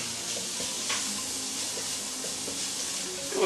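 Carrots, onions, corn and peas frying in a pan for a shepherd's pie, giving a continuous soft sizzle and hiss with faint stirring clicks throughout.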